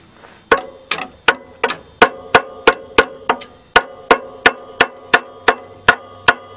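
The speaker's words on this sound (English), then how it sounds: "Let's get a hammer." Hammer strikes on a car engine belt, about sixteen sharp metallic blows in a steady, fairly quick rhythm, loud and close with a short ringing tail after each hit.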